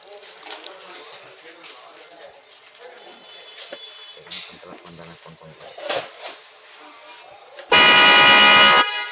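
A loud, sustained car horn blares for about a second near the end, after a stretch of background chatter and street noise.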